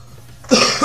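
A single sharp cough breaks out after a moment of near silence, close and fairly loud, with a smaller follow-up burst at the very end.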